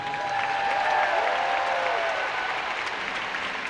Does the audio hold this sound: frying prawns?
no